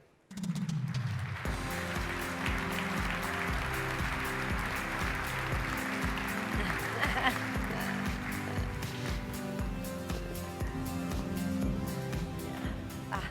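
An audience at a DistribuTECH 2018 keynote applauds to welcome the speaker, with steady, sustained clapping while music plays underneath.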